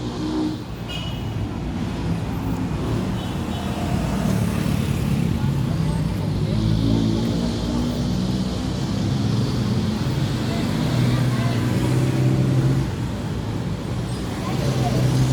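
Steady road traffic near a highway, a continuous broadband rumble of passing cars, buses and trucks that holds at a moderate level throughout, with no clear individual pass-bys.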